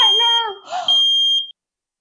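A smoke alarm sets off in a house after toast is burnt, sounding a bright high-pitched electronic tone that rises out of a brief groaning voice, holds steadily for about half a second, then cuts off into silence.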